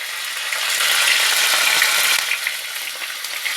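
Tomatoes frying in a pan with salt and turmeric, a loud steady hiss of sizzling oil close up, unbroken and even throughout with no voices.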